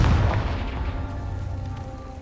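A Confringo spell explodes in Hogwarts Legacy with a loud, low boom at the start that rumbles and decays over about two seconds. No voices are heard.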